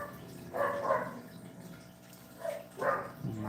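Dogs bark faintly in the background, a few short barks in two quick bursts separated by a quiet pause, with some indistinct household noise.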